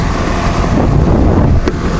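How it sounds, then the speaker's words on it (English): Heavy wind buffets the microphone on the Rimrocker trail between Moab and Montrose, a loud rough rumble that fills the short clip and drops off abruptly near the end. "It's a little bit windy up here"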